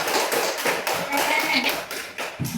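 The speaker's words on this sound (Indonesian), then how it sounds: "Beri tepuk tangan dulu dong untuk temannya." A class of schoolchildren claps for a classmate during a lesson, a short burst of brisk, fairly uneven hand claps from a small group indoors, with some voices underneath.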